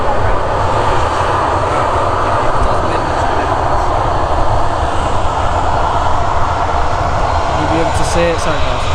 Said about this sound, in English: you can see the Emirates A380, the next aircraft to arrive